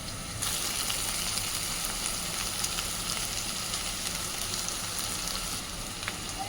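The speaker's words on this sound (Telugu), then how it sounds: "ఇదిగోండి ఉల్లిపాయ ఇప్పుడు వేగింది." Onions fry with salt, turmeric and chilli powder, a dense steady sizzle heard close, with occasional faint ticks and crackles over the constant hiss.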